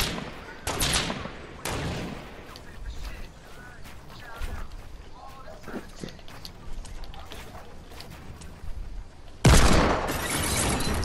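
Gunfire in Fortnite shooting down a player's building, sharp bursts of shots and breaking structure pieces scattered among quieter gaps, with a person talking.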